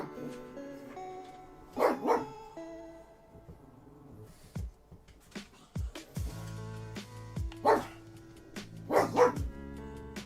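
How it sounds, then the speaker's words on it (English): A dog barks in scattered bursts indoors, some single woofs and some quick doubled barks, moderately quiet with gaps between them and no talking. "Apologies for the barking."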